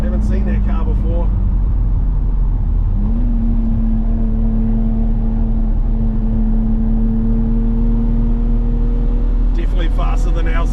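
A modified white Nissan GTR sedan revs hard on a race track at a GTR festival, a loud sustained engine drone rising in pitch. People talk over the start and end.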